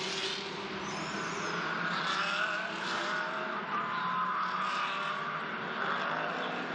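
GT race cars from the Blancpain GT Series Asia at Zhejiang run in a pack behind the safety car, their engines making a steady, dense drone throughout with no pauses, heard alone with no voices.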